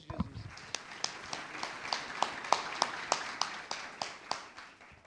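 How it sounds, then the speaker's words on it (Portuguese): A small church congregation claps for Jesus during a service, a steady rhythm of sharp hand claps at moderate distance, fairly quiet and without any talk. "Graças a Deus, uma salva de palmas para Jesus."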